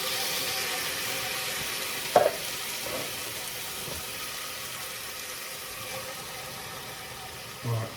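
Two cans of peeled plum tomatoes in tomato juice tipped onto fried onions, giving a steady sizzle and frying hiss with a brief clunk of something landing, then a faint knock near the end.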